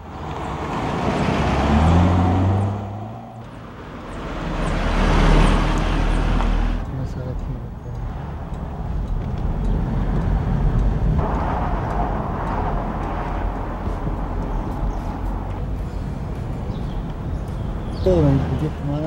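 A car driving on a road, its engine and tyre noise forming a steady broadband rumble that swells and settles over the span, with voices talking at times.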